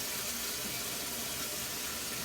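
Water runs steadily onto sprouting mung beans in a two-tier tray, a continuous close splashing rush like a tap filling a sink, with no talking.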